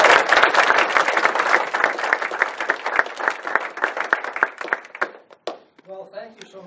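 An audience at a talk applauds, a dense burst of clapping that thins out and fades after about five seconds, followed by a voice starting to speak.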